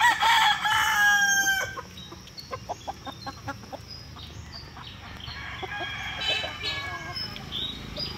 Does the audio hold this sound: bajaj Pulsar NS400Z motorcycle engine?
no